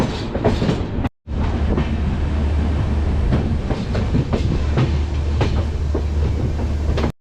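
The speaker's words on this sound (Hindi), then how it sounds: "कोई ट्रेन शायद शंट होने जा रही है न्यू दिल्ली में। नहीं, ये पार्सल एक्सप्रेस है।" A parcel express train rolls past at New Delhi station, a loud, close, continuous rumble with rhythmic clickety-clack of wheels over rail joints, briefly cut near the start and then steady to the end.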